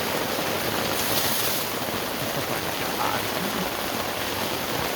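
Heavy torrential downpour drumming on a cargo trailer's rubber-roofed doors, a steady loud broadband hiss of rain throughout with no letup.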